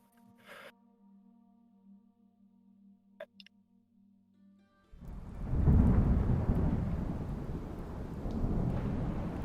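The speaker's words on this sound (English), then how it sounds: "You hear the ominous sounds of thunder in the distance." Distant thunder during a bleak storm at sea: a faint rumble and a few small clicks at first, then a heavy, sustained rolling roar that swells and lingers, with no voices.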